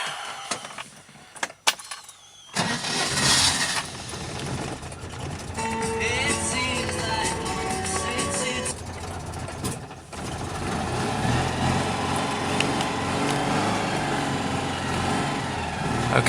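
A Citroen Ami 8 engine cranks with the choke out, catches after a couple of seconds and then settles into a steady, close, buzzing idle that runs on to the end.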